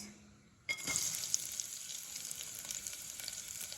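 Chopped onions dropped into a spoonful of hot oil burst into a sudden loud sizzle that settles into a steady close frying hiss, with no talking.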